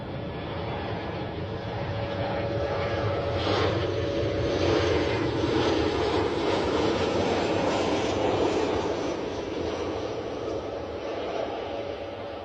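A Ryanair passenger jet arriving at Bristol Airport makes a loud, steady engine roar that stays fairly even throughout, with a broad rushing whine and no pauses.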